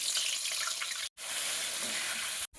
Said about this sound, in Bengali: এবার আমি এঁচড়গুলো তেলের মধ্যে দেবো, দিয়ে লাল লাল করে ভাজবো।